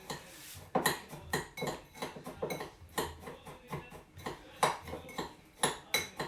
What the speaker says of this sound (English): So in we go with the butter, and we now just mix all that together.